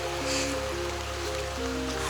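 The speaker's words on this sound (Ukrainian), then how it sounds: "Справжні водоспадики." Small waterfalls at the source of the Chepeliv stream in the mountains splash and gurgle in a continuous close rush of flowing water, with no speech over it.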